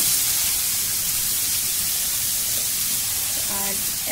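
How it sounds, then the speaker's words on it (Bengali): Ghee heats in a pan for carrots, giving a steady, close sizzling hiss throughout, with a brief voice-like murmur near the end. "তো ঘিটা এখন গরম হচ্ছে, এবার আমি এর মধ্যে গাজরটা অ্যাড করব।"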